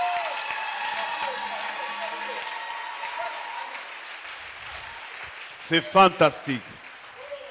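A church congregation applauds and cheers in a burst of clapping and shouts that swells near the end, following a long stretch of a preacher's amplified speech.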